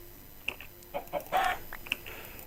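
Chickens clucking in a video game, a few short close clucks and squawks spread over a couple of seconds against a quiet background, with no talk.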